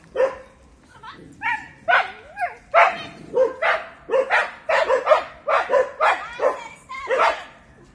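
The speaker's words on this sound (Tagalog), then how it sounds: "tumatahol yung mga aso." Several dogs bark and yip repeatedly in a rapid, overlapping chorus, fairly close, with some whimpering mixed in, reacting to wild boars.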